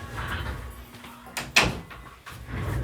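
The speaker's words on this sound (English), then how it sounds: "My dog just opened the door, so let me shut that here." A house door is pushed shut with a solid thump and latch click midway, preceded by a softer knock, amid quiet room noise.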